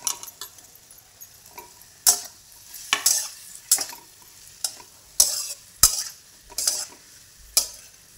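A utensil stirs and sautés potato chutney in a pan, producing a soft sizzle beneath a series of sharp, irregular scraping clicks of the spoon against the metal, each one distinct and close.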